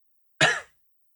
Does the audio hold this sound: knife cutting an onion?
no